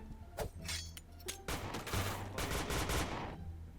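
Rapid bursts of automatic gunfire in the shooter game Point Blank, loud and close, with a few single shots followed by a dense, sustained volley that cuts off near the end.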